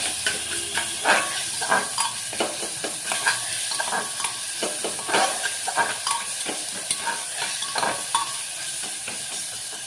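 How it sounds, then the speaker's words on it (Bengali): Mutton being stirred in a hot pan with cloves, cardamom, cinnamon, bay leaf and cumin, a steady sizzle broken by rhythmic scraping and clacking of the spoon against the pan, close and clear with no talking. "নাড়াচাড়া করে নিই।"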